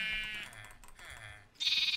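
Two separate bleats from a rainbow-colored sheep in the Minecraft video game, closely spaced and clear, the second a little louder, with faint keyboard clicking between them.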